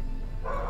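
Cormac the dog gives a single short, loud bark close by at the very end, over a steady low background hum.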